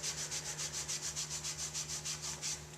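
A clean rag wipes the brake caliper slides on the steering knuckle of a 2006 Jeep Wrangler during a brake job: about sixteen quick, even rubbing strokes in steady rhythm, close but quiet.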